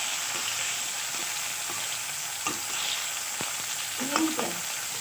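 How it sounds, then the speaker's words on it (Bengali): Pieces of snakehead (shol) fish fry in hot oil in a pan for a fish curry, a constant close sizzle with occasional light scrapes of a spatula and a brief cluster of clatter toward the end. "দেখতে পাচ্ছেন মাছগুলো ভালোভাবে ভেজে নেওয়া হচ্ছে।"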